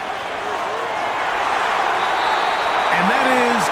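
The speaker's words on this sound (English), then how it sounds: "The crowd cranking it up another notch before 3rd and long." A stadium crowd in Football Rivals Pro League roars steadily and swells slightly louder, with a few high whistles rising above the wash of noise.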